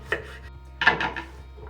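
A knife chops vegetables on a cutting board in a home kitchen: two separate close thwacks, the second followed by a short burst of rapid cuts, with quiet room hum between.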